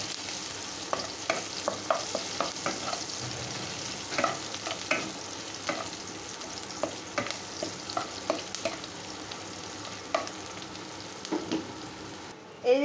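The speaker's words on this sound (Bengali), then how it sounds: "পেঁয়াজ কুচিগুলো ভেজে নেবো।" Chopped onions fry in mustard oil with black mustard seeds in a pan, giving a steady close sizzle broken by frequent scraping stirs and clinks, with no talking.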